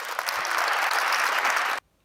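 A burst of steady audience clapping, dense and fairly close, which stops abruptly near the end, leaving quiet.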